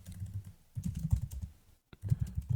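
Typing code on a computer keyboard, a close, busy patter of soft keystrokes in two runs separated by a brief pause, with no talk.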